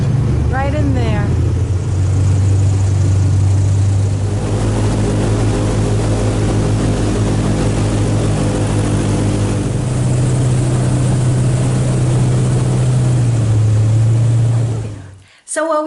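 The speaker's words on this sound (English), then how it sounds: "Oh, the airboat ride, no doubt about it." Airboat engine and propeller drone steadily and loudly for most of the ride, a strong low hum with shifting pitch, carrying on until it cuts off near the end; a brief voice or bird-like sound is heard early.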